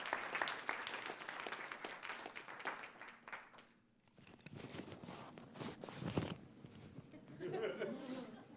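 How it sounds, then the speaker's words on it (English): Another round of clapping from an evening gathering crowd rises for a performer, dips briefly, then surges again, with scattered voices and shuffling beneath the applause. "One more big round of applause for Jacqueline."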